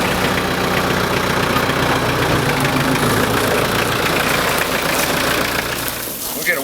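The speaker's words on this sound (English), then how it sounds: "So we're going to use a tractor, as you can see here." A tractor engine runs close and loud with a steady, rumbling drone while lifting a boar, and the low throb holds throughout before easing slightly at the end.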